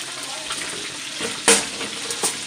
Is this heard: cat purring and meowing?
no